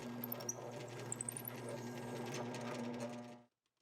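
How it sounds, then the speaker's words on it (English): A drill press bores pilot holes into the ends of 2x4 slats for a garden bench, giving a steady, low, fairly quiet motor hum with faint cutting chatter that stops abruptly near the end, with no voices. "On the drill press, I have the fence and stop set up, and I can drill a pilot hole in each end."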